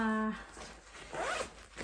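A zipper pulled along a small pocket inside a bag, one quick close rasp right after a voice stops.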